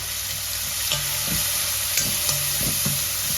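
Finely chopped onion frying in hot oil for pav bhaji, a steady close sizzle broken by several scraping spoon strokes against the pan at a loose, irregular rhythm; no talking.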